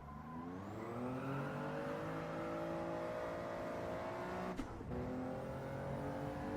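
A race car engine in Gran Turismo 7 climbs steadily in pitch as it winds up through a gear, then abruptly stutters at the rev limiter before pulling on, loud and alone.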